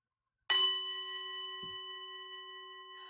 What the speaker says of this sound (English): that was actually a meditation bowl